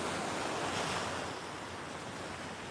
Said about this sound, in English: Look how calm the ocean is.